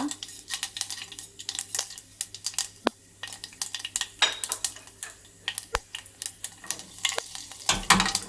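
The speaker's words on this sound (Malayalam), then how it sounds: "കടുക് പൊട്ടി തുടങ്ങിയിട്ട്" Scattered sharp pops and crackles spit irregularly from hot oil, with a few louder snaps standing out over a low sizzle.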